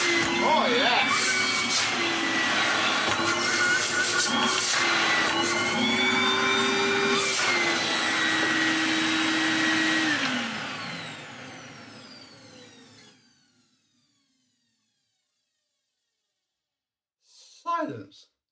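An Electrolux Mondo Z1190e cylinder vacuum cleaner runs with a loud, steady motor whine for about ten seconds, then winds down and falls silent, followed by a brief faint sound near the end.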